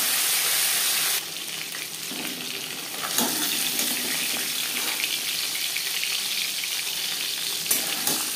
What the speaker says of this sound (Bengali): অপর সাইডটা উল্টে দেব।